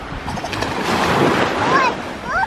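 Sea waves wash continuously along the Croatian coast in a steady, close surf roar with wind buffeting the microphone, while people talk nearby and a few faint whistling tones drift over it.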